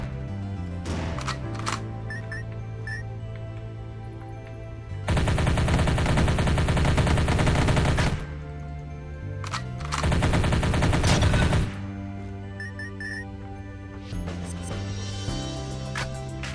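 Rapid weapon fire in the 2018 game Dungreed shoots down missiles as loud, dense bursts of automatic shots. Two long volleys stand out against the game's music and clicky effects, with no talk.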